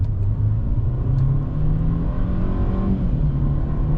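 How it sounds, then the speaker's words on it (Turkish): A 2015 Mercedes E 180 W212 engine roars steadily under hard full-throttle acceleration in sport mode, a deep sustained growl with rising pitch, close and loud throughout. "Motorun sesi canavar gibi."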